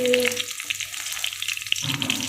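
Food fries in hot oil as it is turned over in a village kitchen, giving a short burst of bright, crackling sizzle up close.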